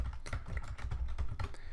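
Quick, uneven clatter of keystrokes on a computer keyboard during PLC programming work, close and steady with brief pauses, no talking over it.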